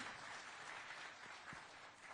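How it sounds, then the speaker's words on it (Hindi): Steady, moderately loud crowd applause at a televised panchayat event greets two deputy chief ministers, with no voices over it. "तालियों के साथ स्वागत कीजिए उनका"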